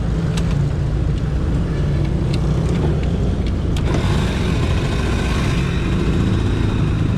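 Honda Pal motorcycle engine running steadily while riding, a continuous mid-pitched drone with road and wind noise throughout, no talking.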